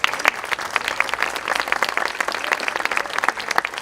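A lecture audience in Lima claps warmly for arriving speakers at a conference on Jacques Maritain, with many individual claps standing out from a lively, even patter that carries on throughout.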